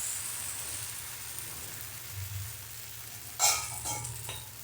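Jowar flour batter hits a hot pan with a sudden loud sizzle near the end, after a quiet stretch of low hiss and faint background hum.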